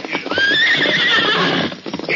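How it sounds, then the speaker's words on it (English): A white horse in an old radio drama gives a loud, long whinny that rises and fades, with clip-clopping hooves underneath, close and prominent with no talk over it. "What's the matter with that white horse, anyway? He's just plain rambunctious, Sheriff."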